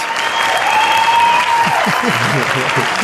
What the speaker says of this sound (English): cue slightly different applause effect